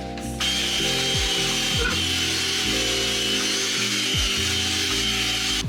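A Makita power drill whirs loudly and almost continuously while removing rust, its motor pitch rising and dropping in repeated surges as the load shifts.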